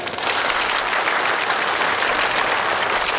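A crowd of guests claps steadily at a corporate group's twentieth-anniversary celebration banquet, a dense, sustained burst of applause filling the room.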